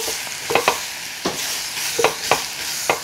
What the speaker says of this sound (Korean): 이만큼 좀 볶아주신 다음에 야채도 이렇게 먼저 볶으시면